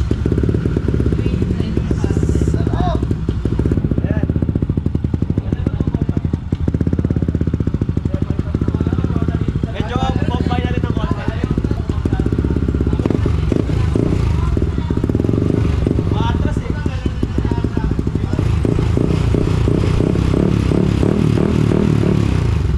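A Yamaha Aerox scooter fitted with a built-up 213cc engine runs steadily nearby, a loud, rough, clattering idle with slight revs throughout while someone speaks over it.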